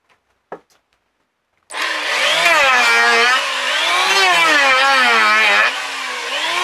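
A plane shaves wood against the grain. A single sharp tap comes first, then a loud, close, continuous rasping whine lasts about four seconds before easing slightly.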